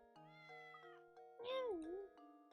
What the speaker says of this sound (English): There goes the cat.